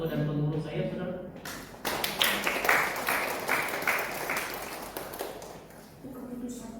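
A church congregation at a Sunday service breaks into warm applause for the elders and church board, many hands clapping together for several seconds, rising and then fading as a voice returns.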